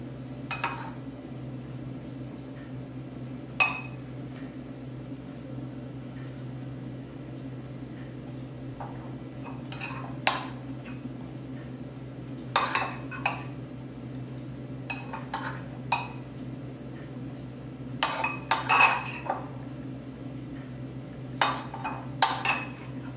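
A spoon scrapes twice-baked potato filling back into the potato shell, giving scattered clinks and taps against a bowl or dish. The clinks are sparse and fairly quiet at first, then come in quicker clusters near the end, over a steady low kitchen hum.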